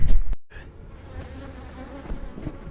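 A dense, steady drone of honeybees buzzing close by at an opened nuc hive, broken early by a brief loud rustle, then continuing evenly with no talking.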